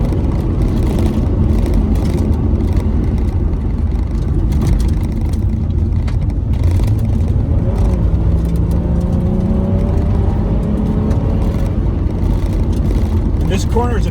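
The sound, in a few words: Nissan 300ZX Z32 convertible driving through a corner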